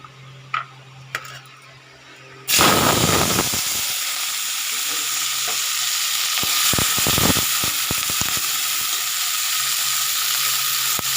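Chopped onion, chilli and whole peeled garlic hit hot oil with a sudden loud sizzle that settles into a steady frying hiss, with a few faint clinks before it starts.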